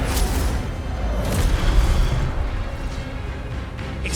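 The Incendio fire spell cast in Hogwarts Legacy, a loud, dense whooshing burst of flame with rumbling, explosive low-end that rolls on steadily for several seconds.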